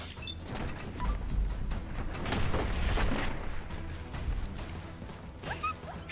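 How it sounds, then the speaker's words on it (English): Shotgun blasts boom in Fallout London, heavy muffled thumps with mechanical clatter, several shots spread across a few seconds over a noisy game backdrop. "Shotguns."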